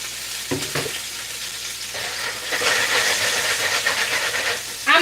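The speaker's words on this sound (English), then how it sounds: "Really quickly, I'm going to toss in my shrimp." Shrimp tossed into a smoking-hot frying pan for a stir fry, giving a loud broad sizzle and hiss that swells after the toss and keeps crackling steadily, with a sharper burst of spitting at the end.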